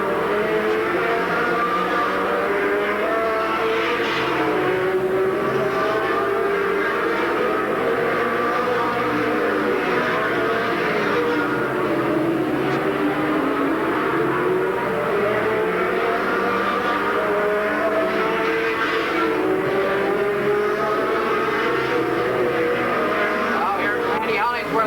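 Race cars in a Texas All Pro stock car event roar around the track in a constant loud engine drone with rising and falling passes, while a commentator talks over it.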